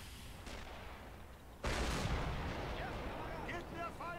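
Mortar fire in the video game Men of War 2, a sudden heavy boom with a long rumbling tail over continuous battle noise, with faint distant gunfire.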